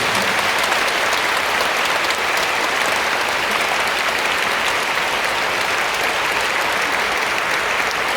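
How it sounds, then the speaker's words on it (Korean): Loud, sustained applause from a church congregation at an anniversary service, a dense even wash of clapping that holds steady throughout with no talk over it. "크게 박수와 함께 영광의 박수를 드리겠습니다."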